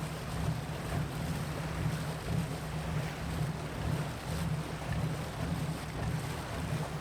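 Soft ocean sounds wash along as a faint, continuous rumble of water and wind, low and steady with gentle swells and no voices.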